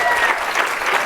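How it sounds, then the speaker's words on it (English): An audience at an International Women's Day awards celebration applauds, a brief dense burst of steady clapping from the crowd. "Give me a big round of applause."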